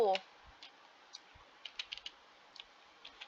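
Light, sparse keystrokes on a computer keyboard while entering text in Excel, faint and close, with irregular single clicks and small clusters of taps.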